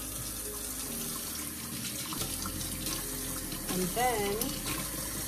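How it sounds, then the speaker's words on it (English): Water streams from a can onto a potted cane begonia, a Begonia Lucerna being repotted, giving a steady close trickle and splash while a voice briefly speaks over it. "Okay, so just going to water this one in real quick."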